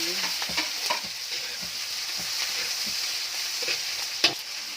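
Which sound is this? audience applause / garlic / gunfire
garlic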